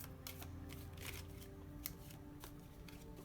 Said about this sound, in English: These ones are kind of tricky to shuffle because they're shaped like hearts.